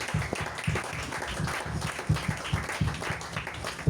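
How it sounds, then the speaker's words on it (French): A church congregation claps and acclaims in worship, with scattered uneven hand claps and crowd noise pulsing irregularly at moderate loudness, a few sharper bursts standing out. "Donne tes acclamations à Jésus que tu le prends."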